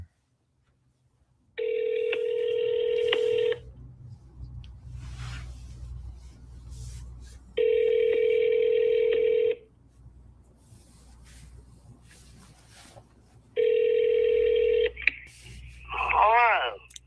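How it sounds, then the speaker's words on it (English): Telephone keypad tones and a ringback ring out in three loud, steady bursts several seconds apart, separated by faint background noise, before a voice answers at the end of the call. "Let's see if she'll answer the phone."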